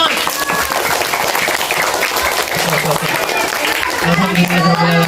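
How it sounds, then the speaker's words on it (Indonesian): An audience at an Islamic talk breaks into sustained applause, a loud dense patter of clapping that holds steady throughout, with faint voices mixed underneath. "Tepuk tangan."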